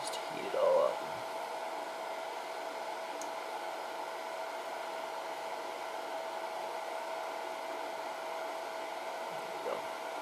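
A heat gun blows steadily on a soldered wire joint during a Raptor210 drone build, making a constant close whooshing hiss. A few brief handling clicks sound near the start and the end.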